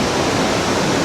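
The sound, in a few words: Li Phi waterfall on the Mekong, southern Laos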